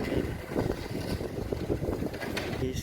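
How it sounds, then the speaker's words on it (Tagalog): Strong wind gusts across the microphone on a sunny day outdoors, a steady loud rumbling buffet with no talk, like a wind-battered open setting. "ang lakas ng hangin."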